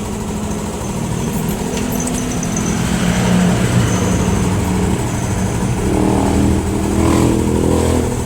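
A motorcycle engine, started without a battery, runs steadily with a rough, rattling idle, loud and close, its pitch rising slightly as it revs a little.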